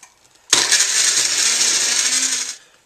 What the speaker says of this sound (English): Now I've got all my ingredients in the blender, go ahead and blend it up for about 30 seconds.